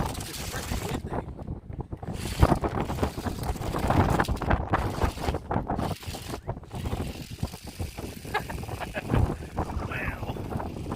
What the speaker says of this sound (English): Oh, it's freaking windy.